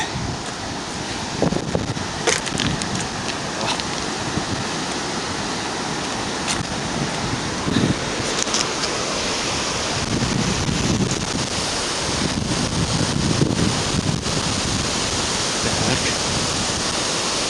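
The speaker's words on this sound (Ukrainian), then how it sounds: "піниться вода." Steady broadband rush of water churning and foaming over a dam on the Vorskla River, continuous and fairly loud, with wind buffeting the microphone and faint scattered clicks.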